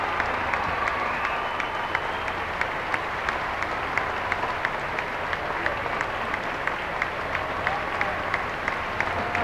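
A crowd of about 2,400 people applauds in welcome for the Pope, dense continuous clapping that holds steady and loud throughout.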